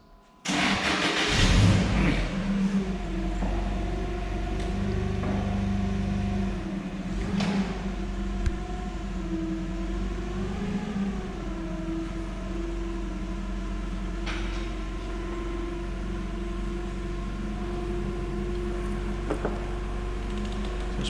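A Clad Boy CB4 roof panel lifting machine starts up and runs as it lifts a panel out of its cradle, producing a steady mechanical engine hum with occasional clunks and shifts in pitch.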